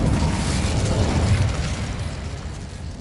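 A fire spell cast in the video game Hogwarts Legacy erupts as a loud, dense burst of roaring flame that sustains for a few seconds and slowly fades.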